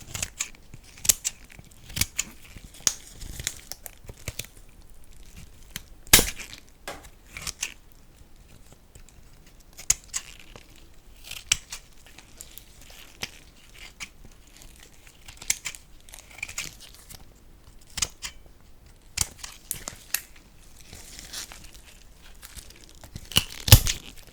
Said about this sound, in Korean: 저는 가위로 하나하나 잘라내는 편입니다